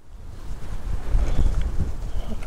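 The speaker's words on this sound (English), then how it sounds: "It's quite cold and windy up here." Cold wind on a mountain top at Buzludzha buffets the microphone in low, gusty rumbles, swelling and easing across a couple of seconds.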